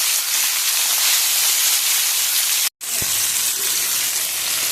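Mixed fish and vegetables drop into hot oil in a pan, setting off a loud continuous hissing sizzle that breaks briefly and then resumes steadily close by.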